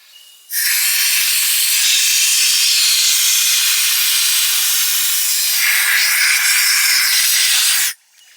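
Brake cleaner blasts from an aerosol can onto the fuel bowl of an old abandoned farm tractor, one loud continuous hiss lasting several seconds that shifts tone near the end, then cuts off abruptly.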